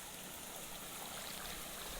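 Floodwater pours through a submerged crop field in a steady, dense rush, close by and unbroken, with no voices over it.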